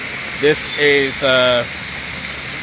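Heavy downpour of rain in Liberia, a steady hiss filling the background while someone speaks over it.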